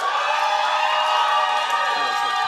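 A dense, steady audience cheer fills a hall at a national awards event, an even wash of voices shouting and whooping with no gaps.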